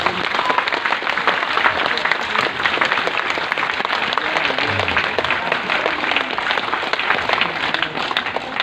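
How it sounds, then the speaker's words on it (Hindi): A large audience of several hundred people claps steadily, a dense, sustained wash of applause that holds at an even level throughout. "जब तक ताली बजाओ तुम लोग"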